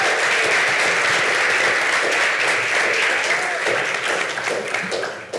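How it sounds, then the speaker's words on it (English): Sustained audience applause for a speaker at a meeting, a dense, steady wash of clapping at full strength that holds for several seconds and then begins to thin toward the end. "Another round of applause,"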